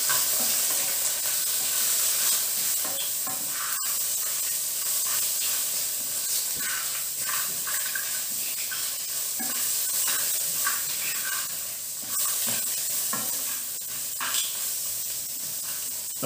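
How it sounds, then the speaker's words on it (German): Ingredients for a lobster starter roasting in a hot pan give off a steady, close sizzle and hiss, broken by light scraping as they are stirred, with no voices. "Das röstet ihr so circa 2 bis 3 Minuten schön an."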